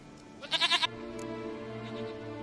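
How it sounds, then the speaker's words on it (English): A goat in The Witcher 3 gives one short, wavering bleat over a steady low background hum. "Goat of mine, dearest, sweetest goat."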